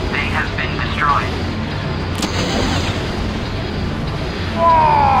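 Space-combat explosions as a destroyed primary target blows apart in the Star Wars TIE Fighter game, a dense rumbling blast with a sharp crack partway through, under ongoing game chatter and engine noise.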